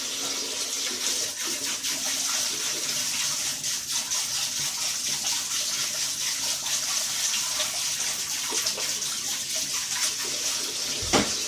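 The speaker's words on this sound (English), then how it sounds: "So I'll let the tap run for a minute." Water runs steadily from a kitchen tap, a constant close hiss and splash that keeps going without a break, with a small clunk right at the end.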